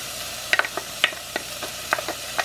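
Kielbasa sausage browning in oil in a soup pot while being stirred, a soft low sizzle broken by a handful of sharp utensil scrapes and clicks against the pot at irregular intervals.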